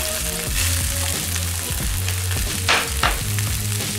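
Green onion hits hot oil for a steak stir-fry and sizzles loudly and continuously up close, with a couple of brief spatters.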